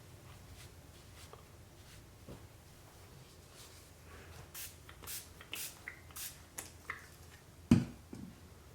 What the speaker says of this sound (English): It's nice to use the spray bottle, then you can kind of control the amount of moisture.